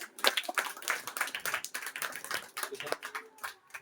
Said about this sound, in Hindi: पिता मैं आपका ताली बजा के धन्यवाद करता हूँ